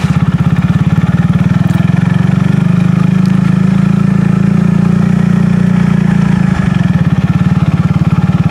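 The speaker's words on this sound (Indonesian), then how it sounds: "Jadi saya sambil manasi motor ini ya teman-teman" A cold motorcycle engine idling while it warms up outdoors, a loud close steady rumbling putter that holds for the whole stretch with a brief dip near the end.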